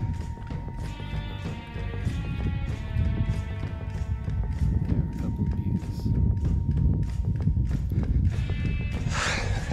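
A big white mountain goat moves over rocky alpine ground high in the Wallowa peaks, its hooves clattering in uneven clip-clop steps at close range over steady outdoor background noise.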